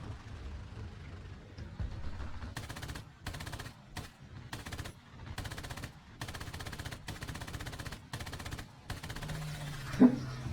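Bursts of rapid machine-gun fire from fighter planes in the War Thunder video game, featuring British fighters, rattle in repeated short volleys over a low steady engine drone.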